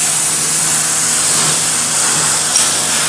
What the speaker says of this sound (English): we want to pressure wash all the muck off of this gearbox